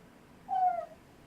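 A dog gives a single short, high whine lasting about a third of a second, close and fairly clear against a quiet background.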